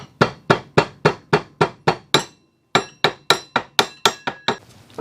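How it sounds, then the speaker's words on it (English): Hammer taps a rubber seal into the front hub of a quad racer, a steady run of about fifteen sharp, close metallic knocks with one short pause midway. "If it's a little tight like this one, I'll give it a little tap with a hammer."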